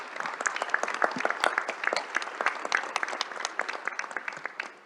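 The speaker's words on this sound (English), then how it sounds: "I would like to give all of our panel, please, a very, very warm round of applause for their contributions." Warm applause from a panel audience in a plenary hall at a ministerial dialogue, a dense steady patter of many hands clapping, moderately loud and continuous, fading out at the end.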